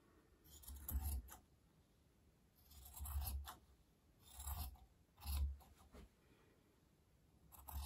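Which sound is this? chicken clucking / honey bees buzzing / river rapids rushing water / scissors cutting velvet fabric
scissors cutting velvet fabric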